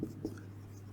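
Marker or chalk strokes on a classroom board during a chemistry lesson on solutions, suspensions and colloids, two short scratchy strokes near the start over a steady low hum, no talk.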